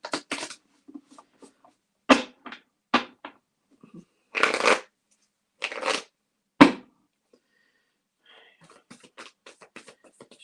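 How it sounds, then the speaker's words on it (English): Tarot cards are shuffled and cut by hand, giving several sharp riffling bursts and softer slaps and taps with quiet gaps between them, close and clear with no talking. "Let me cut the cards."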